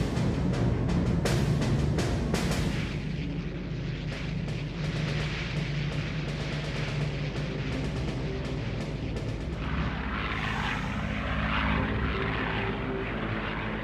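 Several Hurricane and Spitfire fighters with propeller engines drone loudly and steadily as they fly over, a thick continuous roar that holds for the whole stretch with no voices.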